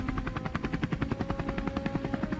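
Rapid rhythmic chopping of helicopter rotors during a wild boar hunt over open plains, a steady pulsing beat throughout, fairly close and without voices.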